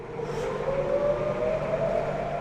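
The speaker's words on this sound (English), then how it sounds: "The sirens ringing out again in the same spot near Tel Aviv today" A sustained civil defense air raid siren wails steadily in the distance near Tel Aviv during rocket fire, a long droning tone over faint background noise, with no voices.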